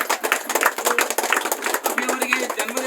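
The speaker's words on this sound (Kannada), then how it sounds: "ಜೋರ ಚಪ್ಪಾಳೆ" A crowd claps loudly at a birthday celebration, with quick, uneven hand claps running throughout while people talk and call out over them.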